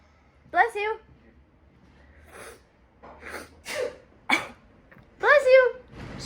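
Sneezes from a person with a cold: a sharp burst near the start, a few smaller breathy coughs and snorts in the middle, then another loud sneeze near the end, all close and indoors.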